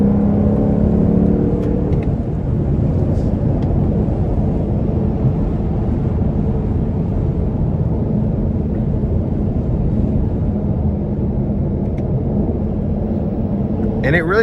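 A 2021 Lexus LC500 convertible with the top up cruising on an interstate, its engine a steady, full low drone under road noise, with a quick rise and shift early on and someone talking over it.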